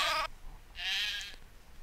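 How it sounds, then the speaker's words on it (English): Sheep bleating in the video game Craft The World, two short nasal bleats, one cut off abruptly and a second longer wavering call, close and clear with no talk. "Cut the sheep."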